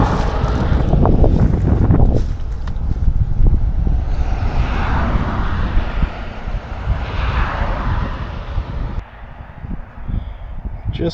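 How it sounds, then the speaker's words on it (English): Wind blows outdoors by the water while searching for a sunken car, buffeting the microphone with loud, gusty low rumble that eases toward the end, with no talk. "It's a little windy."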